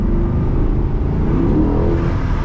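A Corvette C8 accelerating hard on a drive through Beverly Hills, its engine roaring loud and close with a sustained low rumble that climbs in pitch, no voices over it.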